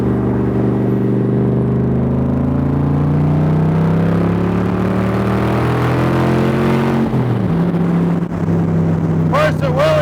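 A 1965 Shelby Cobra replica cruises at about 60 mph up a cloverleaf ramp, its engine a loud, steady drone close to the listener with rising tones. There is a brief dip and shift near the end.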